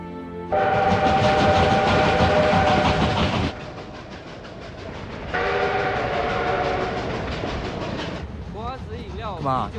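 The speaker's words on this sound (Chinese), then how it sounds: "你没坐过火车啊？" A train runs along the rails with loud rumbling and rhythmic clatter, surging in two heavy bursts, then easing off as a whistle sounds near the end, with faint talk in between.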